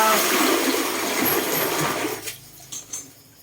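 A loud rush of water pours out of a basin steadily for about two seconds, then tapers into a few splashes and drips.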